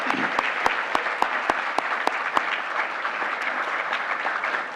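Award ceremony crowd applauds honored primary school teachers, a steady wash of clapping with one nearby pair of hands striking sharp, regular claps early on before blending into the rest.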